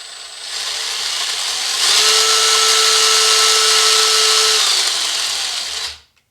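A Redcat Gen8 Scout II 1/10 scale RC crawler's electric motor whirs steadily and loud, rising to a higher pitch as it drives forward for several seconds before cutting off abruptly.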